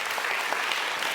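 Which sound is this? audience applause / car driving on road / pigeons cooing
audience applause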